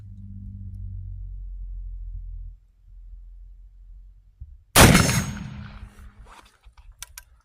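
A 45-90 rifle on a No. 1 Rolling Block action fires once at a steel target: a single loud, sharp crack midway through with a quick ringing decay, after several seconds of low outdoor rumble.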